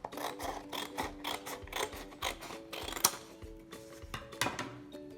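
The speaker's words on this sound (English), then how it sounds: "I'm just going to cut one really thick long strip all along the long side here on the horizontal end." Scissors cutting a long strip of green cardstock, producing a rhythmic series of crisp snips and paper rustles close by, with no talking.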